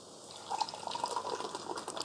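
Coffee pours from the carafe of a Ninja 10-Cup Specialty Coffee Maker CM401 into a cup, a close, continuous liquid trickle and splash lasting about two seconds.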